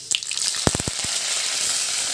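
Mustard seeds, cumin, fenugreek and curry leaves crackle in hot oil, with a quick burst of sharp pops early on that settles into a steady, close sizzle.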